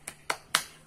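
A teacher demonstrates a rhythmic classroom clap, giving three sharp, close hand claps in a quick, even beat.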